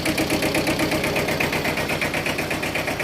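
Old Japanese farm tractor engine idling steadily, a loud close rhythmic knocking chug with even pulses and mechanical vibration, no talk.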